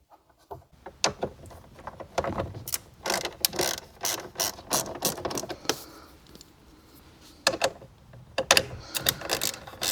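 A ratchet wrench clicks away at bolts beneath the dash of a Chevy Cruze, producing rapid bursts of close, sharp ratcheting clicks with brief pauses between strokes, loud and dry with no talking.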